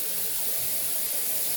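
Warm water running steadily from a tap over a cloth, a continuous close hiss and splash with no breaks and no talking.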